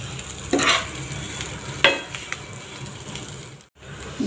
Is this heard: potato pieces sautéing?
yes